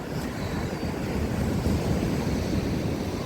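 Sea waves wash continuously onto an Odesa beach at Langeron after a night storm, a loud, steady surf roar with wind rumble and no voices.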